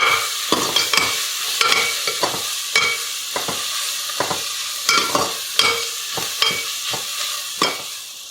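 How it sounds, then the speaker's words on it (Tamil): Onions with rock salt sautéing over medium heat for a prawn biryani, a close sizzling hiss broken by rhythmic scraping strokes of a spatula stirring the pan, repeated every second or so. "இப்போ இதை மீடியம் ஹீட்டில் வச்சு நல்லா ப்ரௌன் ஆகுற வரைக்கும் இதை நல்லா வதக்கணும்."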